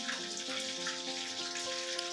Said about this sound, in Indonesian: di sini kita goreng dulu